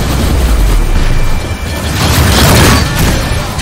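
Heavy roaring missile explosion in the space combat game Rebel Galaxy Outlaw, loud and close, rumbling continuously with a slight dip and a swell near the end.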